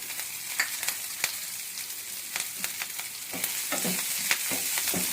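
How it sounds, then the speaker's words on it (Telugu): Onions and curry leaves frying in a pan for a ridge gourd and mint curry, a steady hiss under repeated scraping stirs of a spoon, close and even throughout with no talking. "ఈ ఆనియన్స్ కొంచెం లైట్ బ్రౌన్ కలర్ వచ్చే వరకు ఇలా కలియపెట్టుకుంటూ ఉందాం."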